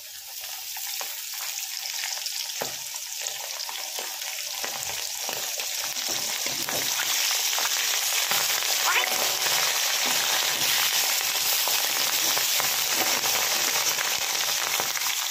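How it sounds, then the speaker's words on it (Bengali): Ginger paste frying in a pan for a milky vegetable curry gives a loud, continuous close-up sizzle and crackle that holds steady and grows slightly louder throughout, with a few faint stirring knocks. "চলো এটাকে ভেজে নিয়ে আমি ফিরে আসছি"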